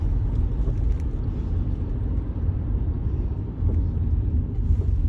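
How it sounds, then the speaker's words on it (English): A car passing close on the road, heard from inside another vehicle as a steady low engine and road rumble that holds throughout with a slight swell near the end. "I'm about to record his car. He is literally cutting me off purposely"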